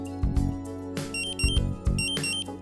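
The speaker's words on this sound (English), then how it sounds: "The A1 pre-alarm is set off as soon as the concentration exceeds the preset threshold." A Dräger Pac gas detector sounds its A1 pre-alarm, a loud repeating electronic beeping pattern with pulsed tones in a steady rhythm, heard alone.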